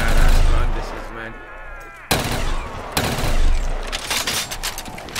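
Heavy gunfire from a weapon in the first-person shooter Black, loud close booming shots and rattling bursts with a sharp blast midway, followed by continued firing and impacts.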